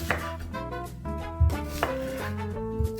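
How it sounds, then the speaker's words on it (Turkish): A knife chops an onion into large pieces on a cutting board, landing a few heavy, irregular thuds close up against a background of steady tonal music. "Bunu da gelişi güzel iri parçalar halinde doğruyorum."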